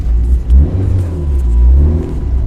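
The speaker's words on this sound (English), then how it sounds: "When you're ready, ease it through the gears, out we go." A Mitsubishi Evo rally car accelerates through the gears on a loose rally stage, a loud close engine rumble and rev that surges and dips between shifts.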